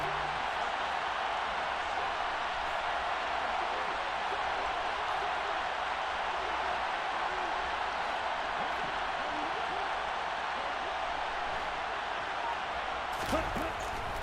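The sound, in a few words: crowd cheering at an NFL football game, Chargers vs Jets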